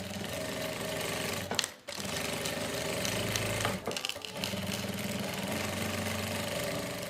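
Sewing machine running a zigzag stitch on a salwar, a steady close mechanical whir that pauses briefly twice before resuming, with no talking.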